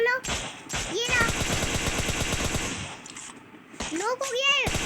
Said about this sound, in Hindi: जो भी बंदा खत्म नहीं होता ना मैं गोलियां चला के उसे खत्म करना चाहता हूँ